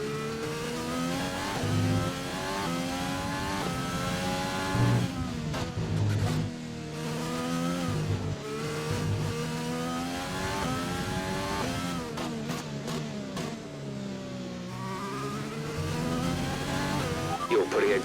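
F1 race car engine in the video game F1 2020 at Bahrain International Circuit, a high-pitched engine note rising and falling through repeated gear shifts, loud and continuous throughout.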